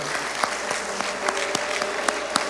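Church congregation applause at a service, heard as faint, sparse claps falling in a loose steady rhythm over a low sustained tonal background.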